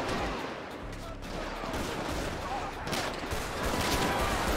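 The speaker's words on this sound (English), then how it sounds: "all these guys just shooting at me" Sustained gunfire from GTA 5 during a gang-unit police patrol, a continuous wash of rapid shots, loud and dense with no clear gaps, set against busy street and game noise.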